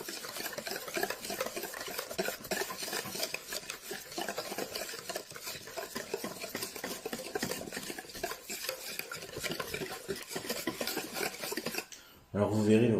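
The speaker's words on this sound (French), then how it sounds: "Je vais remuer donc les différents saladiers" Mixtures are stirred briskly in salad bowls, giving rapid, continuous scraping and clinking of utensil against bowl, then a brief different knock near the end.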